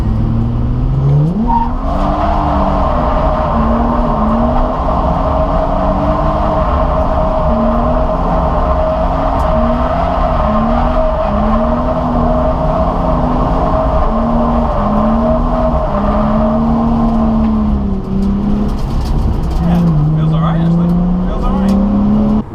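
A Nissan 350Z with an Invidia Gemini exhaust on stickier tyres runs through skids, its engine droning loud and continuous with the pitch rising and falling as the throttle comes on and off, while a voice talks over it at times.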